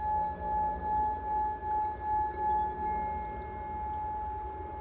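A singing bowl rubbed around its rim with firm pressure, ringing loudly with a steady high tone that swells in a regular pulsing rhythm as the stroke circles, then settles into a sustained hum.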